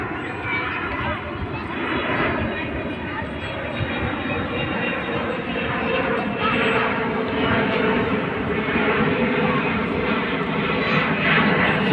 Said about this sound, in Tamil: அடுத்த ஃப்ளைட்டு